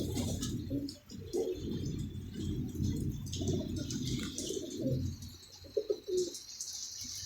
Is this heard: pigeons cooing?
yes